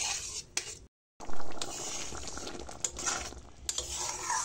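Potatoes and ghugni masala fry on high heat while a spatula stirs and scrapes the pan, with clattering metal and a soft sizzle. A brief silent gap breaks it near the start, and no one speaks.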